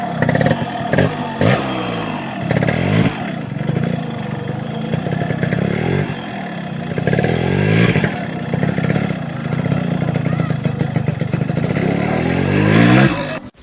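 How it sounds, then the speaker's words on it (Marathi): A decades-old Yamaha motorcycle engine running after sitting unused for 20 years, revving up and down repeatedly with a rough, clattery idle between blips, loud and close throughout. "फायनली आता आपण आपली लिजंडरी बाईक स्टार्ट करत आहोत तब्बल 20 वर्षानंतर."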